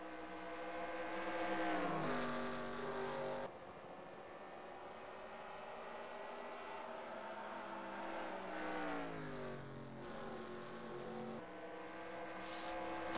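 NASCAR race car engines in a racing video game at Dover, droning at low RPM through the corners, with pitch sweeps as several cars rise and fall in revs, steady and continuous with no talk.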